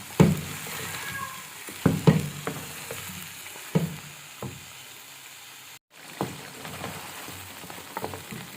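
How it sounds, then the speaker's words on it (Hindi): Whole garlic and ginger sizzle and crackle in hot oil in a karahi for mutton karahi, a steady frying hiss broken by several louder stirring scrapes, with a short gap near the end, no talking. "तो इसको थोड़ा सा साथ ही हम फ्राई कर लेते हैं"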